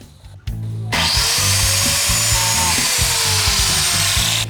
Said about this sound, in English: I'll match it up to the red mark on the biscuit cutter.